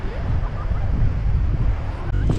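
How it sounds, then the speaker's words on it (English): Strong wind gusts on a pebble beach in Oman, a loud continuous roar of buffeting wind noise with a faint surf-like wash underneath, close to the microphone. "Extreme wind blast."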